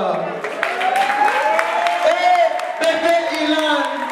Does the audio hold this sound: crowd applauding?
yes